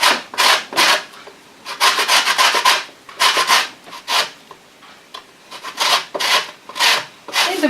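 Lemon zest is rubbed across a fine kitchen grater for Easter bread, a series of loud, close, rasping strokes in a steady back-and-forth rhythm with brief gaps between them.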